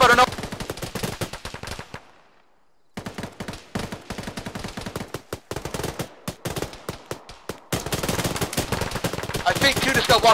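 Rapid bursts of automatic gunfire in a ShackTac tactical shooter game rattle in long, dense volleys with short gaps and one brief silent pause, the shots sharp and close, with players occasionally talking over the firing.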